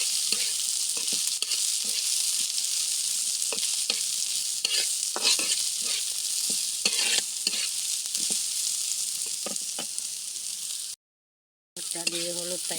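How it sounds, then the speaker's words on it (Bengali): Okra and potatoes fry in a pan while turmeric is stirred through them, a constant bright sizzle punctuated by scraping spatula strokes, with a short gap near the end and a brief voice afterward. "হলুদটা একটু নাড়িয়ে দিয়ে"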